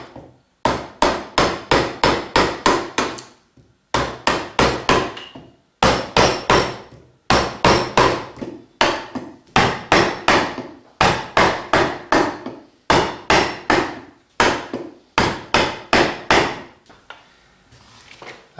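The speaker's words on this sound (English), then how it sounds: "working on down the full curve of the neck using the big gouge again" A big gouge struck with a mallet while carving and rounding the wooden neck of a rocking horse, loud sharp blows in quick bursts of five to eight, separated by short pauses.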